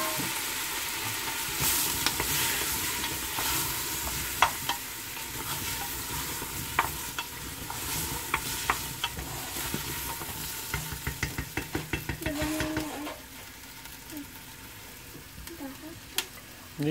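Potatoes and carrots going into a pot for pumpkin soup, clattering and being stirred over a low sizzle, with a dense run of scraping and knocking toward the end; no talking.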